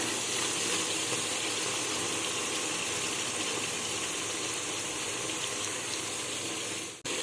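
About 50 ml of yogurt is poured into onions frying in a pan for ghee rice, giving a loud, steady, hissing sizzle that continues throughout and cuts off abruptly near the end.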